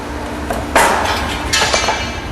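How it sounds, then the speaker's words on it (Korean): Metal hammer blows on a traditional Korean bangjja brassware bowl being shaped by hand, a few sharp ringing strikes over a steady workshop background. "그릇의 형태를 잡아주는 랩핑질 작업. 3명이 조를 이뤄 돌아가며 망치질을 한다."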